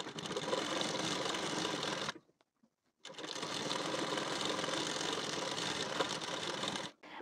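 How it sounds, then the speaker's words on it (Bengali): Sewing machine stitching a blouse belt piece: a loud, close, continuous motor whir runs for about two seconds, stops briefly, then resumes for nearly four seconds before a short pause and a final burst. "ঠিক এইভাবে বসিয়ে নিয়ে একটা সেলাই প্রথমে দিয়ে নিতে হবে।"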